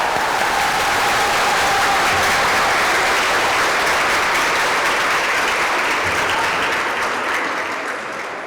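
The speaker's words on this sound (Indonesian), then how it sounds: "Tepuk tangan yang meriah." A crowd gives lively, sustained applause for a designer being introduced on stage, a loud, even wash of clapping that holds steady for about eight seconds before easing slightly at the end.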